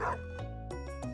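A person imitates a dog barking during a game stream, making a short run of yapping, whimpering woofs in a nasal voice, close and fairly loud.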